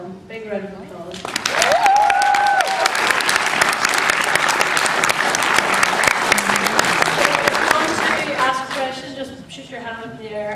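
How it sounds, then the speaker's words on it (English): Loud, sustained audience applause fills a small room at a Belfast Film Festival screening Q&A, rising after a spoken introduction and holding steady for several seconds before tapering as talk resumes. "what a wonderful film. Big round of applause."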